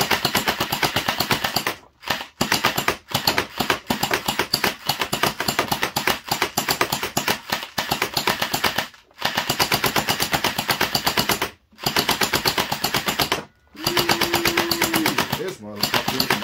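A mini AK-47 gel blaster fires in long, rapid bursts of sharp, closely spaced pops. Brief pauses separate the bursts, and a voice talks over the shooting.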